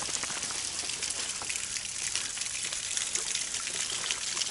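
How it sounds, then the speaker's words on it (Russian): A small woodland waterfall pours steadily, a dense close hiss of falling water without pause and without any talk. "Вот, оказывается, и у нас есть водопады в нашей местности."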